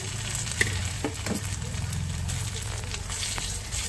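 Ridge gourd peel paste sizzles in hot oil with browned onions, a steady close crackle that runs throughout, broken by a few light knocks.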